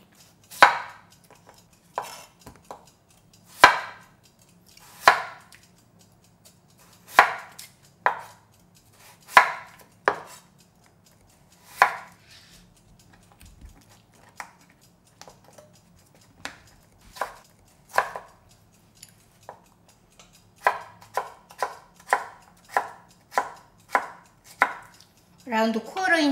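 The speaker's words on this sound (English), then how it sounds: "So first I need to cut into small pieces." A kitchen knife chops a potato into small quarter-inch cubes on a board, crisp, close single strokes spaced irregularly, then quickening into a rapid run of cuts near the end, with no talking.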